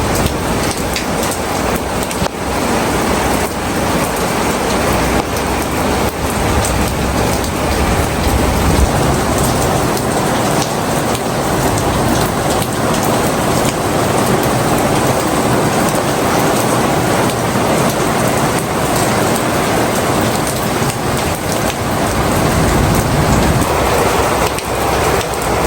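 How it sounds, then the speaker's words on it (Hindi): Heavy monsoon rain pours down loud and continuous, a dense roaring hiss of drops on surfaces with a steady low rumble beneath, alone and without voices. "सावन में जब बारिश हो जाती है ना दिल इतना खुश होता है"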